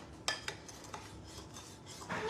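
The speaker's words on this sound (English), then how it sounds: "Now get your spoon. Now you gotta stir it." A spoon stirs cowboy caviar in a bowl, producing quiet, close clinks and scrapes in a few irregular strokes with no talking.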